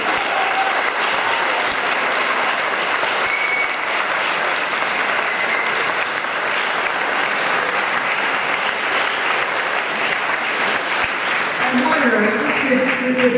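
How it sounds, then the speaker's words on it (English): Sustained applause from a large crowd, dense steady clapping that holds at full strength from start to finish with no voices standing out. "So please give all our schools a big round of applause tonight."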